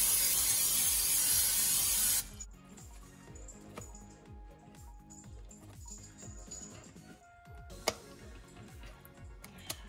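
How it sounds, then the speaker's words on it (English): A loud hissing spray of Pam cooking spray for about two seconds, then quieter kitchen clatter and soft taps with a sharp click near the end, around an air fryer. "so I'm gonna spray it with some Pam"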